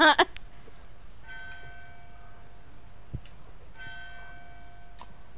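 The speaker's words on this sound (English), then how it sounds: "We hear the bell." A bell in the video game Human Fall Flat rings twice after a brief clatter, each strike leaving a sustained metallic tone that fades slowly, moderately loud in a quiet scene.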